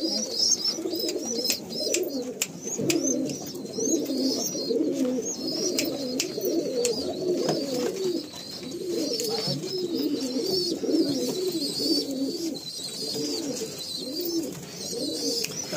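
Aggressive pigeons in a loft coo continuously in loud, overlapping rolling phrases, with sharp clicks and higher chirps scattered throughout.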